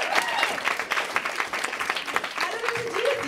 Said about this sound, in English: Can we have a round of applause for all of the great people?